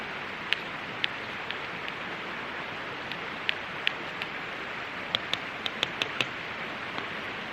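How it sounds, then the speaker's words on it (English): Rain falls outdoors in the Australian bush at an overnight camp, a steady soft hiss broken by scattered sharp drop taps that bunch together toward the end. "Well, it wants to rain again."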